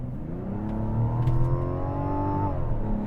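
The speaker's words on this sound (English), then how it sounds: "This inline 6 is probably the best sounding Mazda engine in a long time." A 2024 Mazda CX-90's inline-six engine revs up smoothly, its pitch climbing steadily through the gears, heard from inside the car without talking.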